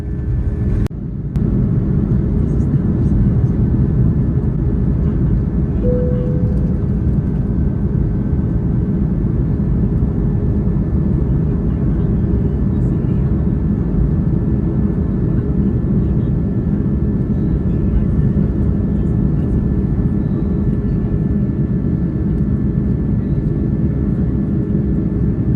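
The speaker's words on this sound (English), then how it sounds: "A quick taxi to the runway and we're ready for takeoff." Inside a Malaysia Airlines airliner taxiing to the runway, a steady low engine rumble and cabin hum drone on evenly and continuously, with a brief knock near the start.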